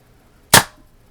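Single sharp, close crack of a Daisy Red Ryder BB pistol firing, a brief snappy pop that decays quickly into quiet.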